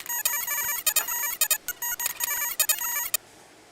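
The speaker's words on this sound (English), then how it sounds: "A little glitchy loop right here." Glitchy electronic loop in a music track, made of bright, stuttering tonal bursts that cut in and out in a choppy rhythm, loud and upfront, with no voices.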